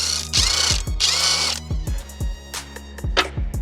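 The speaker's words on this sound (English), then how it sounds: "Now I'm just undoing all the drive shaft bolts." Impact wrench or power drill loosening drive shaft bolts on a VW Eos, with two long whirring bursts followed by a series of sharp ratcheting clicks and clanks, close and loud, with no talk.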